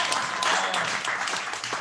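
A basement comedy-club audience beneath a strip club bursts into loud, dense applause, a close continuous patter of many hands that holds steady across the short stretch, with a faint voice or two mixed in.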